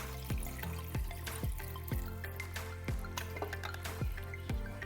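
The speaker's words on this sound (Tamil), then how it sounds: "இப்போ இதில் நம்ம 200 ml தண்ணி ஆட் பண்ணிக்கலாம்." Water goes into chicken masala for biryani in the pan, heard as faint, regular drips and light splashes at a steady pace, with no talk over it.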